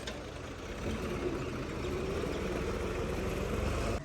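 A tractor straining to haul a loaded trolley up a slope of loose, sandy soil, its tyres spinning and slipping; a steady, continuous engine rumble holds close and loud throughout, with no talk.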